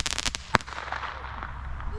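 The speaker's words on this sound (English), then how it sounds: "That was a firecracker on a stick." A firecracker on a stick goes off with one sharp crack near the middle, set against a crackling background of New Year fireworks.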